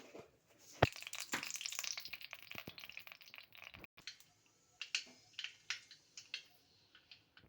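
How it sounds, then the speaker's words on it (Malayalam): Mustard seeds popping in a pan of hot coconut oil, a fast irregular series of sharp little cracks and pops, close and crisp, thinning out toward the end with no talking. "കടുക് പൊട്ടട്ടെ."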